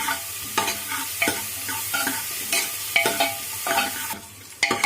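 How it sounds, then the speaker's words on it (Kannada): Chopped onions fry in a pan while a spatula stirs them in regular scraping strokes over a constant close sizzle, no voices. "ಇದನ್ನು ಕಂದು ಬಣ್ಣ ಬರೋವರೆಗೂ ನಾವು ಸ್ವಲ್ಪ ಫ್ರೈ ಮಾಡಬೇಕು ಫ್ರೆಂಡ್ಸ್."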